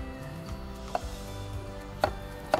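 A knife cuts summer tomatoes into strips on a board: three sharp, separate chops land against a steady background hum, spaced irregularly, close and fairly crisp.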